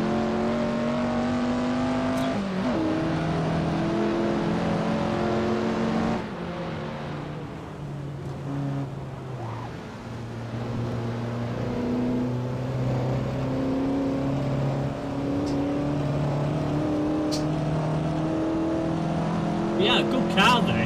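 TVR Griffith 200 engine in the racing game Assetto Corsa, a steady harmonic drone rising and falling through gear changes, with a brief lift around six seconds before pulling again, loud throughout with occasional talk over it.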